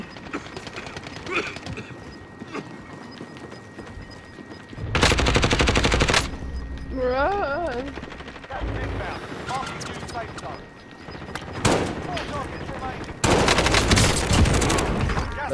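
Shield turret machine gun fire in the video game Warzone, arriving in loud, dense bursts of rapid shots with shorter pops between them, mixed with game noise and voices talking over the action.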